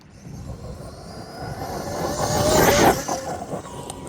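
A MaxxRT Maxx Slash 1/8-scale RC truggy racing at full speed, its electric motor whine rising as it approaches, peaking loudly and close, then fading slightly as it passes.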